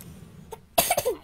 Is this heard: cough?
yes